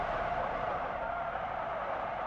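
Tires skid and scrub as a car brakes in the BeamNG driving simulator, a steady, loud, continuous screech with road noise that holds evenly throughout, without talk.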